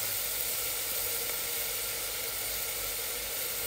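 Lamb trotter curry base with salt, ginger and garlic sizzling in a pot, a constant dense hiss and crackle with no voices over it.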